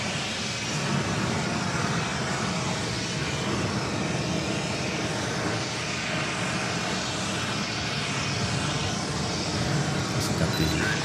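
An American Airlines Boeing 737-800 in Oneworld livery rolls along runway 4 Left at JFK airport in New York, its engine roar a steady, broadband rumble that holds evenly throughout with no voices.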